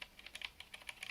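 Typing on a DK61 Pro mechanical keyboard with brown switches and O-rings gives a quick, uneven run of soft, muted keystrokes, close and quiet, with no one speaking.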